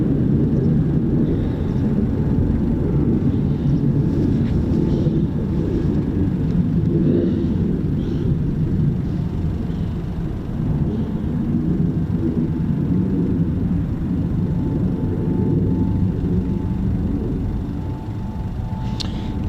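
An F-15 jet flies over near RAF Coningsby and gives a broad, continuous rumbling roar. It swells and eases slightly over a long stretch and is heard alone, with no talking.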